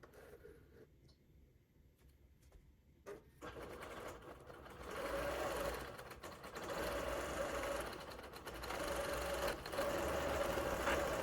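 A longarm quilting sewing machine stitches a flower design into a quilt block, a steady mechanical hum and whir that starts softly, then runs louder and continuously with slight swells, nearby and with no talking.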